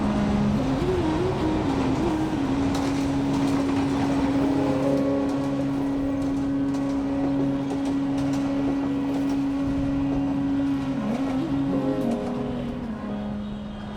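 A crowded passenger train in Dhaka, Bangladesh rumbles steadily past with a long sustained horn-like tone, constant mechanical roar and clatter lasting throughout, loud and close.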